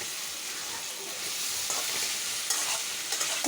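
Tangra fish cooking in a pan makes a steady, fairly faint sizzle throughout, with light stirring scrapes and clicks toward the end and no talking.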